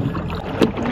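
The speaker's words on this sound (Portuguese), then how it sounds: "O barco tá vindo!" Small boat on the sea off Arraial do Cabo, Brazil, heard as a brief, steady engine-and-water rumble with wind noise on the microphone and a short louder swell near the end.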